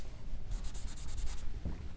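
A lecturer writes on a board, making close scratchy chalk-like strokes in a quick burst of short rhythmic marks, then one brief rub against quiet room tone.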